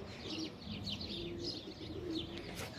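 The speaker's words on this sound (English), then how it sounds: "Meron silang ano. Different colors of pigeons." Pigeons of different colours coo softly and repeatedly in a bird garden, low rolling calls mixed with faint chirps and a little ambient rustle, with no talking.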